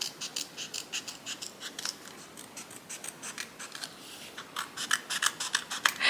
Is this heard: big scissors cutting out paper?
yes